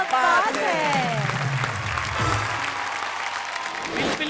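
An audience in a Hindi poetry show claps in a short burst of applause mixed with a voice, the clapping fading out over a few seconds.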